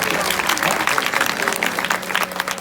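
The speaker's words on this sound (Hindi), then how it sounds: "एक बार जोरदार ताली।" Audience applause at a live Chhattisgarhi comedy stage show, a dense, steady wash of clapping from a crowd that holds at full strength for a few seconds with no break.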